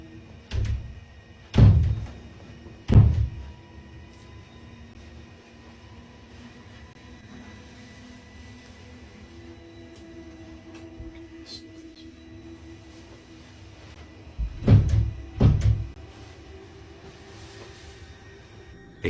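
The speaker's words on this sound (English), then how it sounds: "I can hear banging on the... Can you hear it? It's this door." A door inside a home is banged on from behind, with heavy thuds in pairs separated by a long quiet stretch, the second pair coming as a quick double knock.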